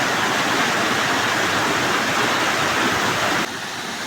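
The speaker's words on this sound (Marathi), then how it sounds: "आवडता धबधबा शाळेत जाताना" A waterfall roars beside a monsoon stream swollen with floodwater on the way to school during heavy rain. The rushing water forms a loud, close, steady wash, then drops slightly in level near the end.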